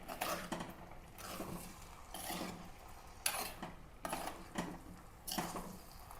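A spoon scrapes and clinks against a bowl while a marinade with vinegar is stirred and mixed, in several short, fairly quiet bursts of stirring.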